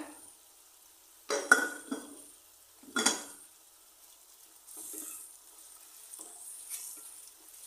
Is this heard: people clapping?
no